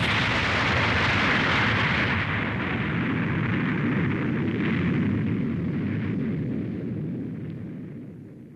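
A massive, roaring explosion from a meteor impact shockwave rumbles with dense low-end force and crackling debris, sustained for several seconds before slowly fading out.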